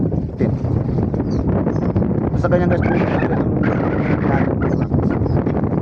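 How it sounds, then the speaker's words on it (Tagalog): Strong sea wind buffets the microphone on a fishing boat in a continuous roaring rush, while someone talks briefly over it. "Grabe guys ang hangin"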